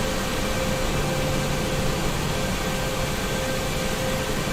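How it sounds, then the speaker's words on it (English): AH-64D Apache helicopter engines shutting down in the DCS World flight simulator, a steady, loud whining turbine roar with high sustained tones that holds evenly across the whole stretch. "Alright, let's kill the engines here."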